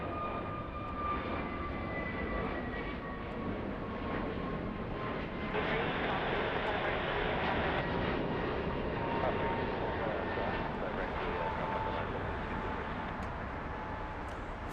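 A Spartan military transport plane passes with a steady, broad engine roar that swells slightly in the middle and holds loud throughout, with faint talk beneath.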